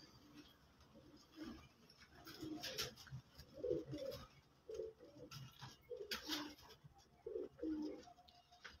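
Pigeons coo repeatedly in soft, low rounded calls on a rooftop in Faisalabad, close by and quiet, with faint rustling and patter in between.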